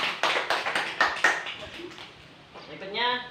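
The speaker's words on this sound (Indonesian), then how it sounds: "Boleh dikasih aplaus, tepuk tangan." Students in a classroom clap together in a short burst of sharp, separate claps that soon fade, followed by a voice speaking near the end.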